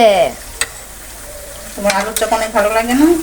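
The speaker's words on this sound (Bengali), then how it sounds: "মাশরুম ফ্রাই করব আর চিকেন ফ্রাই করব" Mushrooms and chicken frying in a pan, with a steady sizzle and occasional stirring scrapes, heard close and under a voice speaking.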